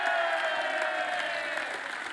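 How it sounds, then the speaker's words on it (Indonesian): Studio audience applause on a television game show for three contestants, a brief burst of dense clapping with faint crowd murmur and a thin sustained tone underneath, easing off slightly at the close. "Oke, tepuk tangan dulu buat tiga-tiganya."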